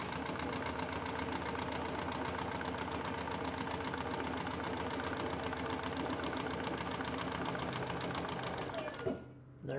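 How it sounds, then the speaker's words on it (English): A sewing machine runs steadily for about nine seconds, stitching across the top of a tablet sleeve for a satchel, loud and close, then stops abruptly. "I'm just gonna stitch across the top of it"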